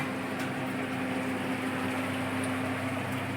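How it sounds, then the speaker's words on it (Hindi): A fan or air cooler runs steadily in a home room, producing a low, even whir and hum with a faint constant tone, quiet and unbroken. "फैन शायद कूलर चल रहा है, इस कारण से आपको आवाज़ सुनाई दे रही होगी।"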